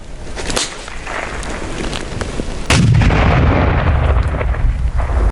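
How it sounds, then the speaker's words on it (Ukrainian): A hand grenade bursts during a military training exercise, a single loud, heavy blast followed by a long rumbling roar that fills the rest of the clip, with no talking. "Остання вправа цього разу метання гранати."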